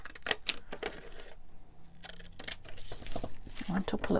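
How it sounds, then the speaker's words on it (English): Fancy scissors cutting across paper for a mini junk journal, a few faint snips and rustles under a voice talking. "I'm thinking to use some fancy scissors. Oops, what have we got? Those. And just cut it across there."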